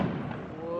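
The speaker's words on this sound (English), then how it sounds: "Fireworks up there" Fireworks popping at an outdoor display, faint crackles and soft thumps in the distance with people chattering nearby.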